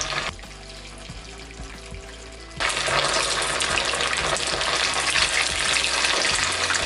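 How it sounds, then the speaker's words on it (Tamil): Anchovies dropped into hot oil in an iron kadai, the sizzle jumping from a softer hiss to a loud, dense, continuous crackle of frying partway through, close and alone. "இதில் வந்து நம்ம மீனெல்லாம் போட்டு பொரிச்சு எடுக்க போகிறோம்."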